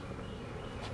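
A steady, dense hum of honeybees fills the air during a hive inspection, a continuous close buzzing swarm at even, moderate loudness without breaks.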